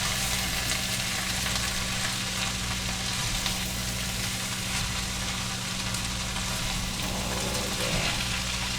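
Corn chowder being stirred in a pot, a steady close simmering sizzle with faint scraping under constant background hum, no talking.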